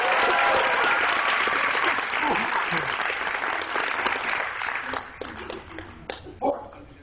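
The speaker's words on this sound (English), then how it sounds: "Give Lexi a round of applause." A convention workshop audience applauds Lexi with a loud, dense burst of clapping. It thins out after about five seconds into scattered claps and murmuring.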